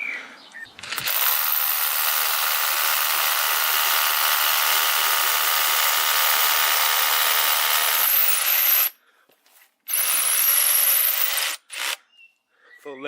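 A loud, continuous high-pitched grinding whine of a Bosch GBH 18 V-Li cordless SDS hammer drill boring into masonry, stopping abruptly, then two shorter bursts with brief pauses between.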